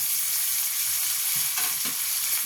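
Chopped tomatoes go into a frying Bengali fish curry with coriander and cumin powder, giving a steady close sizzle and a couple of brief soft thuds.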